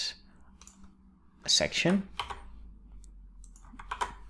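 Several sharp mouse clicks on a computer while using Microsoft Teams chat, scattered through the clip and mixed with someone talking.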